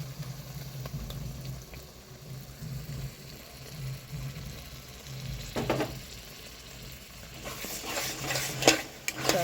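Cold yogurt is stirred into fried spices in a pan for a fish curry: soft scraping and sizzling, with louder clinks of the spoon against the pan near the end.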